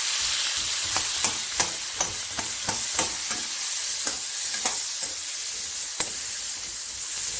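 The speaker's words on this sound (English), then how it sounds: "Saute it a little." Corn and spinach sautéing in a hot pan, a constant bright sizzle and hiss punctuated by a steady series of spatula stirs and scrapes, close up with no talking.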